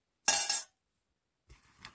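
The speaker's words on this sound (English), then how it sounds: "I got my fork and knife here," Metal cutlery, a fork and knife or spork, clinks as it is pulled from a rucksack: one bright rattling clink, then a fainter brief jingle, close by.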